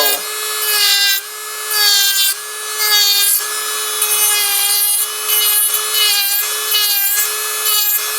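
Electric nail drill with a tungsten carbide bit running at light pressure on a nail: a steady, close, bright whine with pitched tones that surges and eases in repeated passes every second or so, with no talk.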